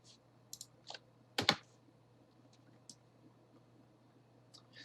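Computer mouse clicks during kitchen design software work, a few sharp faint clicks scattered across quiet room hum, close and isolated.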